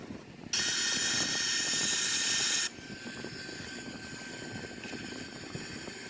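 Airbus A340 cruising in a flight simulator, a steady engine drone and airflow hiss that jumps louder with a bright whooshing layer for a few seconds, then settles back to a constant hum.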